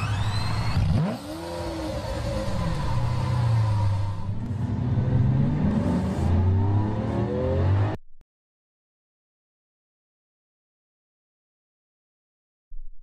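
Lamborghini Aventador revving and driving close by, a loud throaty engine rumble with a sharp rising rev near the start and shifting pitch, then cutting to silence before a brief return at the very end.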